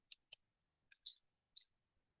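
A computer mouse gives a handful of sharp, quiet clicks, spaced irregularly across a near-silent background.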